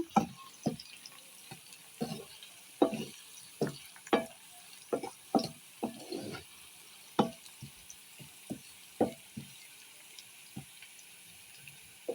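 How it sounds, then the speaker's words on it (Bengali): Garlic frying in oil in a pan for a prawn balachao, with a utensil stirring and knocking against the pan in irregular close taps over a faint steady sizzle. "রসুনগুলো ভাজা হয়ে যাচ্ছে।"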